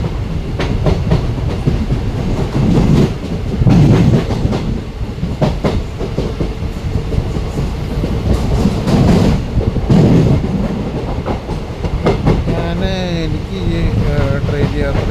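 A passenger train running on rails in Kerala between Aluva and Kalamassery rumbles steadily with rhythmic clickety-clack wheel beats and periodic louder surges, while voices talk inside the carriage.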